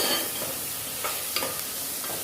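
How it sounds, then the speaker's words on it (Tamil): Chicken and tomato sautéing in a pan for a Tirunelveli-style chicken curry, a steady broadband sizzle with a few sharp scraping stir strokes, close and continuous with no talk. "தக்காளியும் போட்டு நல்லா வதக்கிட்டு சிக்கன் போட்டு வதக்கணும்"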